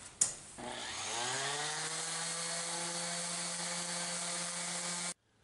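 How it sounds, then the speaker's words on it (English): A DeWalt sander with an aggressive disc runs on an old 75-year-old chalkboard, whining up after a sharp start click and holding a steady high-pitched drone for about five seconds before cutting off abruptly. "So that was taking approximately forever, even with an aggressive disc on a DeWalt sander."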